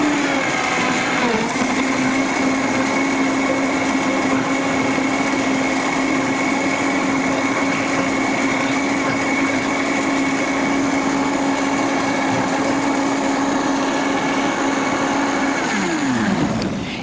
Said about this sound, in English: This is one of the top of the range blenders